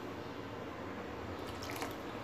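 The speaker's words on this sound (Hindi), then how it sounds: "उसमें थोड़ा सा हम पानी डालते हैं" Water is poured into a semolina and yogurt batter for rava idli, a steady close trickle and splash of liquid with no talk over it.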